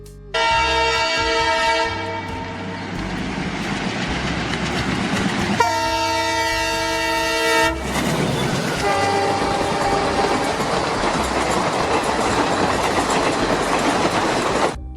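An Indian Railways train rumbles along with steady rolling noise while its horn sounds in long, loud blasts, pausing briefly before sounding again.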